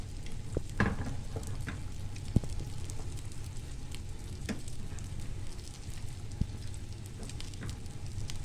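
Pie dough frying in a pan, giving a steady, close crackling sizzle that continues throughout with scattered small pops and sharp ticks.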